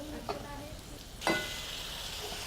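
Chicken with chili powder sizzles softly in a pan over low heat. One sharp burst of sizzle comes partway through, against a quiet background.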